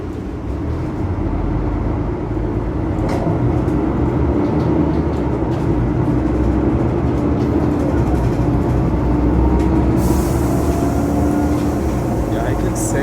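Loud steady rumble and road roar inside a Mercedes-Benz Conecto G articulated bus riding through Ljubljana, with a brief hiss of air near the end and faint speech under the noise.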